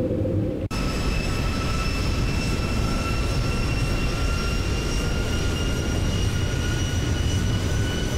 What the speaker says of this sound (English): let's lower our landing gear